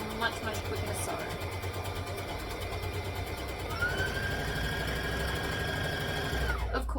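A sewing machine runs steadily while stitching fabric for a McCall's M8083 garment, with a steady mid-level mechanical hum throughout and a higher whine in the latter half. Someone talks over it.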